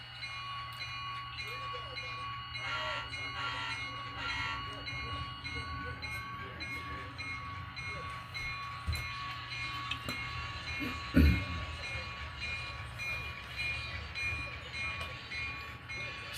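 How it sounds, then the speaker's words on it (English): Model train locomotive running along its track, producing a soft steady rolling whir with faint electrical whine and one brief clack partway through. "Something tells me I might have to clean the wheels on my locomotive here."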